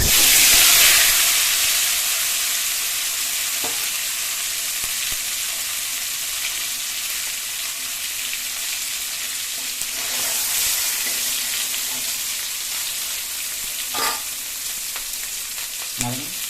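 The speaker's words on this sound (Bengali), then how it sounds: "এখানে ডিম শুদ্ধ নেওয়া হয়েছে, এখন তেলে ছেড়ে দেওয়া হচ্ছে।" Eggs dropped into hot oil in a wok sizzle and crackle loudly at first, then settle into a steady frying hiss with occasional stirring clinks close up, no voices.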